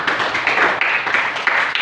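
A classroom of students clapping their hands together after a classmate's answer, a brisk, close burst of many claps in a quick, uneven rhythm with no talking.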